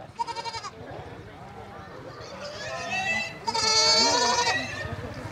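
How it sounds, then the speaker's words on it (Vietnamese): Goats bleat in short repeated calls at a goat section of a rural market fair, moderately loud and close, with crowd noise and talk around them. "Bè bè bè dê này."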